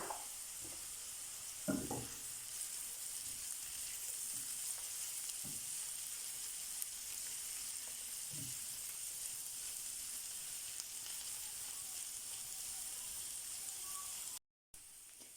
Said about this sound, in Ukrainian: Перемішуємо, накриваємо кришечкою і ще тушимо 5 хвилин